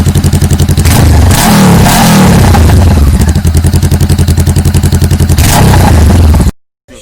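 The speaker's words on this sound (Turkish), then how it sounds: "önce bir egzozsuz ses verelim dedik" A motorcycle with its exhaust removed runs very loud and close, a harsh, rapid pulsing roar that swells through several revs before cutting off abruptly near the end.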